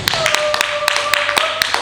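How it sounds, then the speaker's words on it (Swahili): A church congregation claps along, sharp overlapping hand claps in an uneven rhythm beside a sustained whistle-like tone, with cheering ululation mixed in. "Pigie Bwana makofi na vigelegele."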